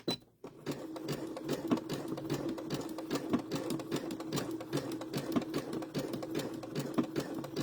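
A sewing machine stitching appliqué shapes onto a dish towel, running steadily with a fast, even mechanical chatter close to the microphone, after a short quiet start.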